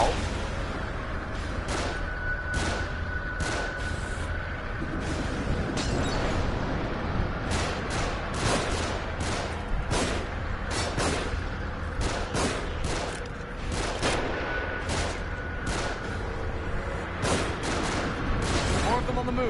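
Gunfire from enemies firing down from above in the video game The Evil Within rattles in dense, repeated bursts and single sharp cracks across the whole stretch, loud and close, with a steady rumbling game background underneath.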